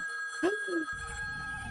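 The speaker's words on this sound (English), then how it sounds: "The phone! The phone! Ah, loud!" A single short telephone ring sounds in the video game Copycat, a brief bright tone over steady high background music, followed by a low rumbling ambience.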